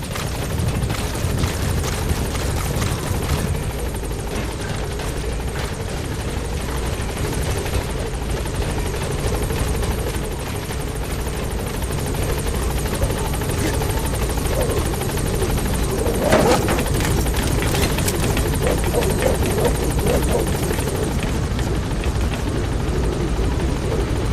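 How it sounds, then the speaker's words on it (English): A support helicopter in Metal Gear Solid V: The Phantom Pain arrives at a landing zone, its steady rotor thump and engine drone filling the whole stretch loudly and continuously, with a brief swell midway. "Support helicopter has arrived."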